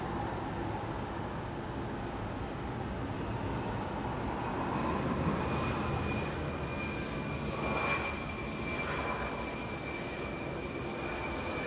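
A jet airliner takes off from runway 24 left at Los Angeles International Airport, a steady broad engine roar that swells slightly as it climbs, with a faint rising whine, heard at a distance with no talk.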